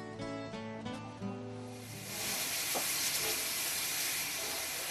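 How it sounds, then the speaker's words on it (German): Steam locomotive No. 1105 on Sweden's Inlandsbahn, a steady loud hiss of escaping steam swelling up and filling the scene after a few seconds of whistle-like tonal sound, with no talk. "Sie erwartet die Fahrgäste der Inlandsbahn bei einem Ausflug unter Dampfkraft."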